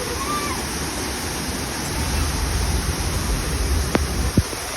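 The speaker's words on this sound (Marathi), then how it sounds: "धबधबा किती जोरामध्ये वाहतोय" A powerful waterfall pours in a continuous, heavy roar, loud and close, with a couple of sharp clicks near the end.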